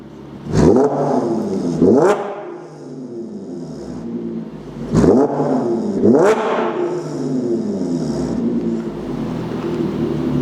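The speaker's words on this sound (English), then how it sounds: "we're gonna go ahead and give us some revs now" An Audi S5 (B8.5) engine with resonated test pipes revs sharply in two pairs of quick blips, each rising to a loud roar and falling back to a rumbling idle between.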